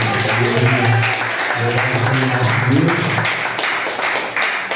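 A church congregation claps along during a worship service, a steady run of hand claps blended with sustained singing or music underneath.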